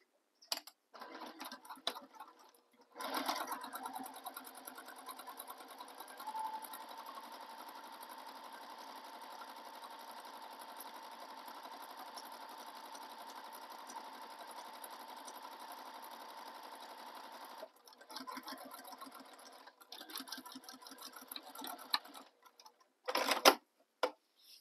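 A sewing machine top stitches down the side of a fabric tote bag, running as a steady, quiet, fast mechanical whir for about fifteen seconds, with brief starts and stops before and after.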